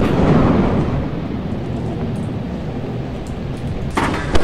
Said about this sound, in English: Oh my god, random lightning.